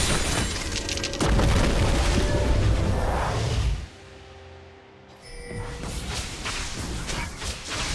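A turret being destroyed in League of Legends, a loud booming crash with whooshing debris, then a brief drop to near quiet before busy game effects resume.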